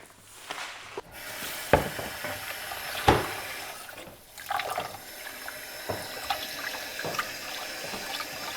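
Water runs steadily from a kitchen tap while food is washed in a sink, with a continuous splashing flow broken by occasional clunks and knocks.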